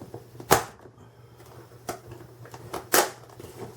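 Packaging straps on a brand-new DEWALT 20-volt max half-inch cordless impact wrench are cut open, with a few sharp snaps and plastic clicks spaced apart amid quiet handling rustle, close by.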